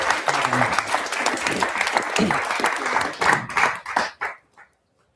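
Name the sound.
applause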